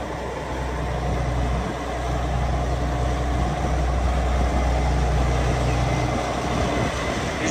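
A 2011 Challenger MT835C tractor's engine runs at a steady idle, a loud, constant low rumble that holds unchanged throughout with no talk.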